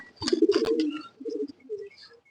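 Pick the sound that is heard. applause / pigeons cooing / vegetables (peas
pigeons cooing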